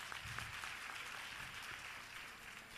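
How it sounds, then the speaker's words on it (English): Audience at a youth empowerment week event gives a round of applause, a continuous, even wash of clapping from many hands, moderately distant and without voices over it. "Let's give him a round of applause."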